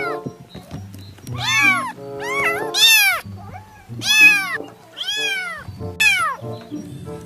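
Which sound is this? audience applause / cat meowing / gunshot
cat meowing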